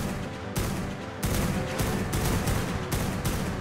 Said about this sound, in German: Das neue Geräusch von der Sniper ist einfach nur episch